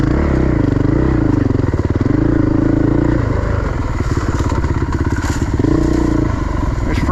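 Dirt bike engine roars steadily on a single-track trail, rising and falling with throttle changes between bursts of revving, loud and close throughout, with rattling and clattering over rough ground.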